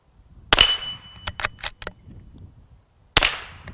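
Two sharp, loud shots from a Remington Sportsmaster 512 .22 rifle ring out about two and a half seconds apart, with a metallic plinking of struck targets and light handling clicks between them.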